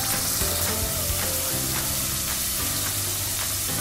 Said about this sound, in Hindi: मसाला इसका ऑयल सेपरेट हो गया है और अच्छे से भुन गया है।